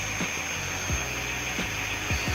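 A power drill with a buffing pad polishes the clouded headlight of a Toyota Sequoia, a steady close whirring hum with brief dips in pitch as light pressure loads the motor.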